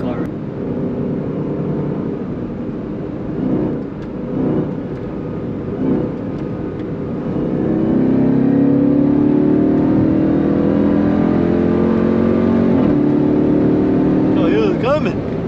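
A BMW closes in from behind during a Jeep Trackhawk top speed run, engine roar building and holding loud and steady inside the cabin while people shout and talk over it.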